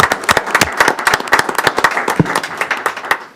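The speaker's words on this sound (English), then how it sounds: "So I just want to give you a round of applause." Loud, close applause at a city council meeting, a dense burst of many hands clapping at a quick rhythm throughout, with no talk over it.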